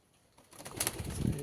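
Pigeons in a home loft during bath time, a soft, low cooing that rises out of near silence, fairly faint and brief, with a slight rustle of movement.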